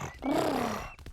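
A voice imitates a cartoon tiger's contented purr: one drawn-out, rumbling, growl-like vocal sweep lasting about half a second, followed by a couple of short, quieter breathy sounds.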